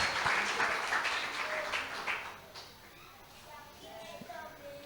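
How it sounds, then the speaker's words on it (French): A church congregation claps and applauds at a thanksgiving service, a dense burst of hands that fades after a few seconds, while a voice speaks over and after it. "Let us clap the Lord for the grace that he has given us."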